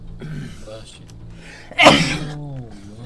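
A single sharp sneeze bursts out mid-conversation during a session of Old School RuneScape, loud and abrupt, with people chatting casually around it.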